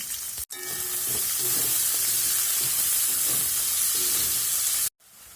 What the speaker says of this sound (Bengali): পেঁয়াজটা হালকা লাল করে ভেজে নেব